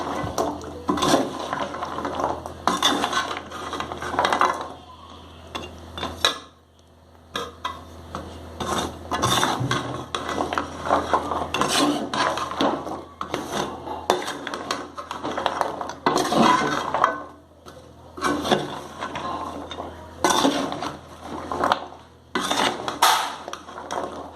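Sugar-coated sweet shells (gavvalu) are stirred steadily in a pan, making continuous scraping and rattling with brief pauses between bursts. The sound is close and no one speaks.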